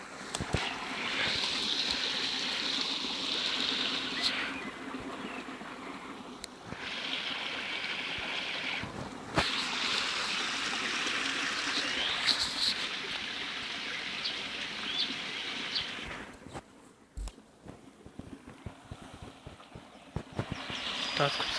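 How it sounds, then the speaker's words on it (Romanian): Water streams through flattened grass after a storm, a steady gushing wash that swells and drops back in uneven stretches, close to the microphone and nearly alone. "Tot așa curge apa și aici?"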